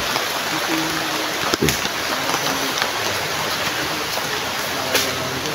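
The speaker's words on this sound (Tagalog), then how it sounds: "Tingnan niyo, grabe ulan." Heavy rain pours steadily outdoors near a hut, a dense constant hiss with a couple of sharp knocks, no talk.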